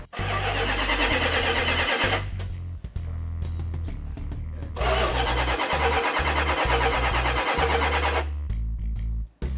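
A car engine cranks and fires up, running loud and rough with steady low rumbling, briefly cutting out before turning over and running again.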